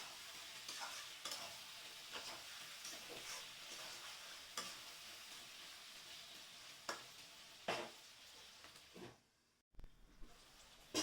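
Chicken with fried taro and fried potato is stirred and fried in oil in a pan for a Bengali chicken curry, giving a steady soft sizzle with repeated scraping strokes of a spatula, close and without talk.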